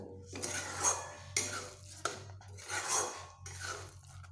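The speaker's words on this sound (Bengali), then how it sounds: "আমি আর কিছুক্ষণ এইভাবে কষিয়ে নিব বা নাড়তে থাকব" Ridge gourd curry stirred in a pan, a utensil scraping and clinking against the metal in several uneven strokes over a low hum, close and quiet.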